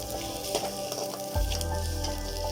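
Onions frying in a pan for a baby potato curry, a close steady sizzle with light stirring scrapes, growing louder and fuller partway through as more goes into the pan.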